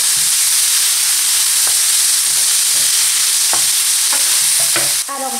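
Chicken and mushrooms fry in a pan, a loud continuous sizzle with soft scraping as the mixture is stirred, plus a few sharper clacks of the utensil near the end.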